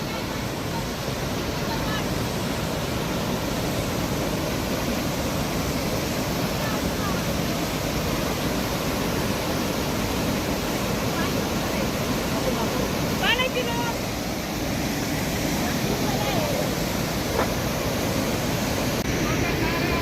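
The Reli Khola river rushes in a loud, unbroken roar that stays steady throughout, with voices occasionally audible beneath the flow.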